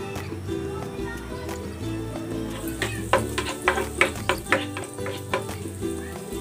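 Margarine sizzles in a frying pan just used for frying tofu, a soft steady crackle beneath a run of sharp metallic clicks and scrapes from stirring in the second half.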